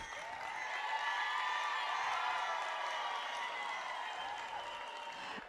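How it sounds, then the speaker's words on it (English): Outdoor crowd at the Moshoeshoe Walk 2025 hiking event applauds and cheers for women hikers: a steady, moderately distant wash of clapping with some voices rising over it, lasting throughout. "So a special round of applause to all women hikers."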